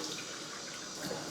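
Cold water runs steadily from a bathroom tap for washing the face, a loud, close, continuous splashing hiss with no voices.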